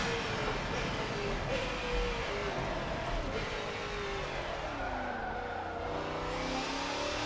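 A race car in Forza Motorsport 7 braking hard, its engine note sweeping down steadily with tire noise over roughly seven seconds, loud and continuous with no talk.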